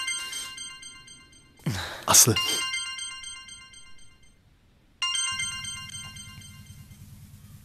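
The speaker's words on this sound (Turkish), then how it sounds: "Telefonun çalıyor ama." A mobile phone ringtone plays a bright, repeating melodic tune in two bursts, with a sharp noisy clatter between them and a low hum under the second burst.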